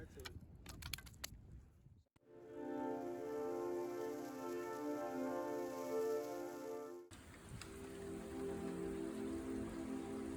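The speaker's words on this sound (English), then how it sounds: "Many people talk about how rain is a very soothing sound." Steady, dense patter like rain falling on a surface, loud and continuous for several seconds, then cutting off abruptly and continuing at a lower, softer level.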